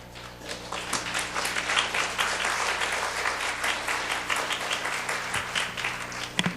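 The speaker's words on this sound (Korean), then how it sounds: "총장님 나오실 때 큰 박수로 맞이해 주시기 바랍니다" A church congregation at a mothers' prayer meeting breaks into sustained applause to welcome a seminary president to the pulpit, a steady, fairly distant wash of many hands clapping with no talking over it.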